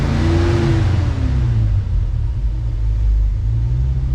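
A 1966 Mustang with Sniper EFI idles roughly with a deep, loud, continuous rumble and a wavering pitch as the engine struggles, heard up close with no talk.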